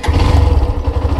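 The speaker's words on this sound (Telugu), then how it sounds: "అండ్ బండిని స్టార్ట్ చేసిన తర్వాత" A Hero Xtreme 125R 125cc motorcycle engine running steadily just after starting, a loud, close, even low rumble with a continuous throb and no talking.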